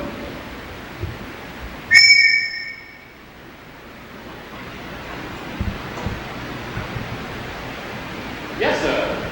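A sharp, shrill whistle blast rings out once, loud and brief, then fades into a quiet room hiss with a faint shuffle later.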